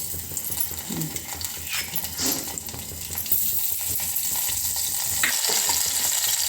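Ghee tadka with green chillies sizzles loudly in a small pan on a gas stove, a steady hiss broken by stirring scrapes and clinks, with no talk over it.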